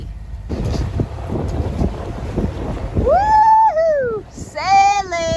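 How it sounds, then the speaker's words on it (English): A sailboat under way off Corsica, with a steady rush of wind and water against the hull, close and continuous, and a voice whooping over it near the end. "Lovely sailing day."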